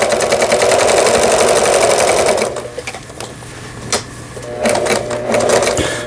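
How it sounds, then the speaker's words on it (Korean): A repaired Pfaff sewing machine sews a straight stitch with a loud, rapid mechanical chatter, in two runs: about two seconds at first, a short pause with a few clicks, then a second burst. "각종 기능들이 수리가 잘 돼서 박음질이 잘 됩니다."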